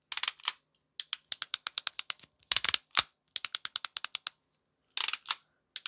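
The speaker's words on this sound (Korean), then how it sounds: "자, 쉬프터 소리가 달라졌죠." A bicycle gear shifter tested after sitting in cold winter weather clicks in rapid crisp runs, several bursts of quick, sharp ratcheting ticks separated by short pauses, close and with no talking.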